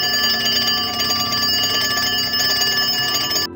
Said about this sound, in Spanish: sonó mi celular